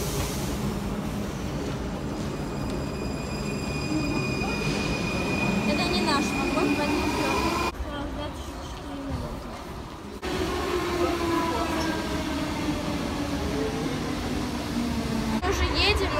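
A Munich metro train rumbles along with a steady, loud mechanical roar and rising whine, interrupted by brief drops as it passes through sections; people talk underneath.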